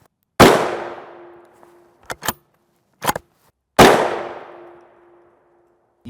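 Rifle shots fired at NIJ Level IV body armor plates at a range: two loud, sharp cracks with ringing, decaying tails, separated by a few shorter, quieter impact bangs, all close and alone.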